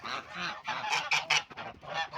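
Geese honk repeatedly at close range, a loose run of nasal calls overlapping one another without pause.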